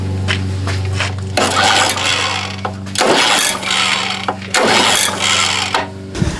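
A Honda HR21 lawn mower under repair is pull-started three times in quick succession; each pull gives a loud, close, rattling burst of engine noise.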